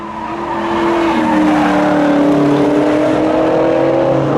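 Camaro race cars at a spectator drag thrill show come off turns 3 and 4, their loud engines droning and rising steadily with tire squeal, sustained and close, without talking.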